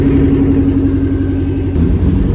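A 3-rotor rotary engine car revs hard at an outdoor car meet, a loud, close, sustained buzzing drone that holds steady with a slight dip partway through.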